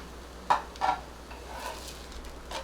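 A lid comes off a pan of frying poha thalipeeth with two quick, faint metallic clinks over a soft, steady sizzle.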